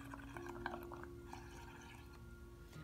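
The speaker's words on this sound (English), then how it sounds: "And blow bubbles." Blowing through a long straw into a cup of dish soap mixture makes soft bubbling and gurgling, quiet irregular pops and burbles that continue for about three seconds without speech.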